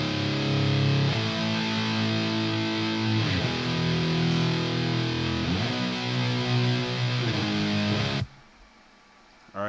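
Heavy distorted rhythm guitar tracks through a 4x12 Recto cabinet, with dense, loud chugging chords and a few pauses between phrases, ending in a sudden cutoff and near silence.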